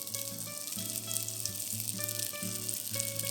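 Dried shrimps, chilies, garlic, onions and spring onion whites fry in about three tablespoons of oil over medium heat, a continuous loud sizzle under a steady background of music tones.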